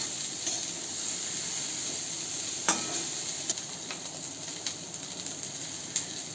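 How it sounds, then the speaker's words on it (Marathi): Chopped okra stir-frying in a pan over medium gas gives a steady close sizzle and hiss, with occasional light scrapes of stirring throughout. "त्यामध्ये कापलेली भेंडी मिक्स करून घेऊ. गॅस मिडियम ठेवलाय मी. छान परतून घ्यायची भेंडी."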